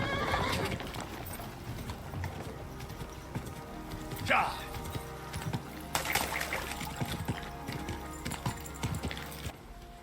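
Horse hooves clip-clop steadily in the medieval game Kingdom Come: Deliverance, with one sharp neigh partway through, heard over a busy outdoor ambience and trickling water.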